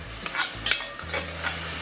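Vegetables cooking outdoors in molasses and Worcestershire sauce for smoky bacon beans, with intermittent soft stirring scrapes over a steady low hum and a faint simmer.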